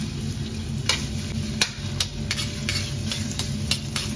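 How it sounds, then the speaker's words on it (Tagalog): Ginger sautéing in hot cooking oil in a frying pan on a stove, a steady close sizzle with a utensil stirring and tapping against the pan in sharp, irregular clicks, no talking. "igisa ang ating luya"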